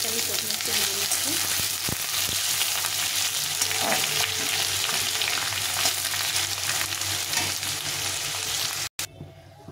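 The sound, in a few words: potatoes frying in a pan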